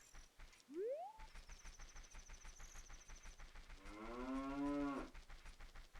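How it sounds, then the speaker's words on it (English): A cow moos as the daybreak cue in an Ocarina of Time randomizer, one long rising-and-falling low bellow near the end, set over steady rhythmic game music with a brief sliding tone earlier. "it sounds like the "It Becoming Daytime" sound is a cow, which is fun."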